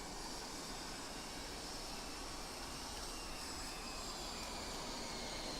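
A Mirage F-1 jet in the DCS flight simulator taxis slowly, giving off a faint, steady engine whine and hiss that holds evenly throughout.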